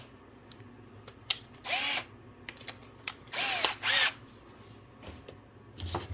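An electric drill mixing paint whirs in three short bursts, rising and winding down each time, with small clicks and handling taps between.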